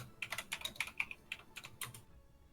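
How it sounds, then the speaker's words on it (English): Fingers tap quickly on a computer keyboard, an irregular run of crisp clicks and clacks up close that stops abruptly near the end, with no voices over it. "is he typing out what he's doing?"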